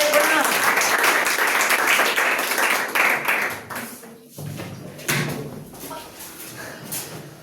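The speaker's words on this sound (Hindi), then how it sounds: "जोरदार ताली स्वागत करें" An audience claps at a school result ceremony, a loud burst of dense applause that fades into scattered claps and noise.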